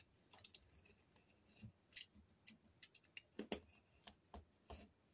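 Scissors cut paper for a small handmade mini album, a series of close, quiet snips and crisp clicks in an irregular rhythm, with no talking.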